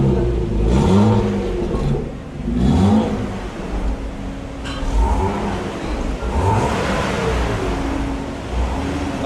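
A BMW E36 325i with an exhaust cutout revs repeatedly up close, loud rising and falling engine surges sounding alone with no talk.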